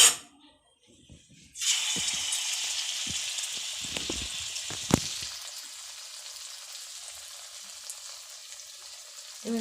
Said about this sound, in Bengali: একে একে সব তেলে ছেড়ে দিলাম